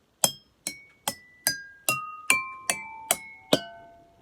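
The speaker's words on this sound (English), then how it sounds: "using a chopstick creates a much softer, less harsh and sweeter tone when you strike the side of the glass" Water glasses arranged in pitch order, struck one after another with a chopstick: nine clear ringing tones stepping down in pitch at an even pace, each decaying briefly, close and alone.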